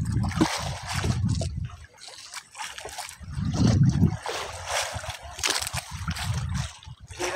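Strong river current rushes past in clear water in Laos, sloshing and gurgling in uneven surges close to the microphone, with louder bursts of splashing and no clear talk.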